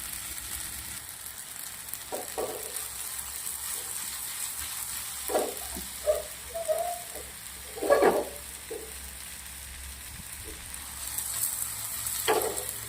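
Butter masala pasta made with Maggi masala cooks in a pan on a gas stove, giving a soft steady sizzle and bubbling with a few louder stirring scrapes and clinks near the middle and end.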